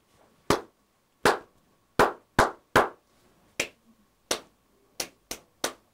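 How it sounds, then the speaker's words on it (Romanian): One person claps a rhythmic pattern of about ten sharp, close hand claps with uneven spacing, including quick pairs and short bursts, each separated by quiet. "o să bat din palme ori și v-ați trebuie să repetați după mine"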